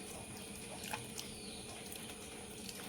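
Tamarind water trickles softly into a dry fish curry, a faint, continuous liquid pour with a few small splashes, quiet and close.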